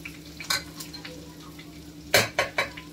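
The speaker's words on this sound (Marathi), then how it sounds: "कढीपत्ता टाकूया, लाल मिरची टाकूया, सुकीवाली काश्मीरी लाल मिरची सुकी, ते टाकून देते" Curry leaves and dried Kashmiri red chillies go into hot oil for a dal tadka, giving a few sharp spatters and utensil knocks, with a cluster of loud bursts near the end over a quiet background.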